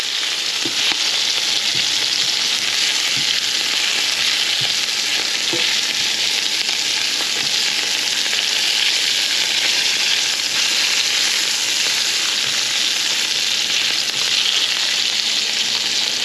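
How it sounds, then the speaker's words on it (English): Halibut fillet frying in a pan, raw in the center and flaky, sizzling in a steady, loud, continuous hiss with faint scrapes and pops, no voices. "Gonna keep cooking this fish"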